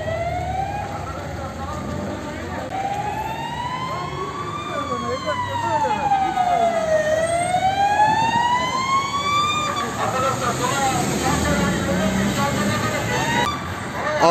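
A fire engine siren wails at a traffic accident scene where an ambulance hit a car in Sincan, Ankara, its tone sweeping slowly up and down, loud and close over street noise and background voices.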